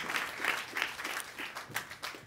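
A church congregation applauds, many hands clapping in a soft, uneven wash that sounds somewhat distant and subdued.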